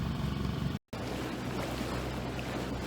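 A Catalina 22 sailboat motoring on its engine on flat, windless water off the Florida coast, a steady low drone and water wash running continuously with a brief dropout near the start.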